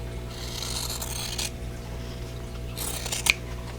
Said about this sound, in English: grab my scissors and cut these apart